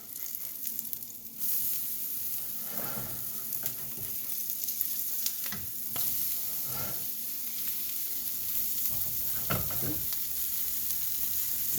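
A vegan chickpea burger sizzles steadily in an oiled pan, a continuous close frying hiss with a few brief clinks and scrapes of utensils, no voices.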